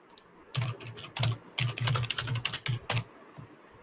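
Typing on a computer keyboard, a run of close, crisp key clicks coming in quick bursts with short pauses between them, no voices.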